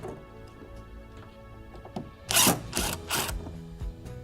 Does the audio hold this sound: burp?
no